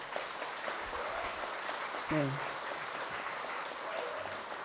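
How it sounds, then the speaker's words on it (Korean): A hall audience at a temple service applauds to welcome three lecturers, a steady soft patter of clapping throughout with a brief vocal sound midway. "귀한 걸음하시어 열정을 다해 강의해 주실 세 분의 교무님들을 위해 큰 박수 보내주시기 바랍니다."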